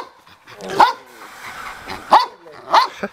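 A Dutch Shepherd puppy barks three times at irregular intervals, sharp close yaps separated by quiet stretches with faint background noise.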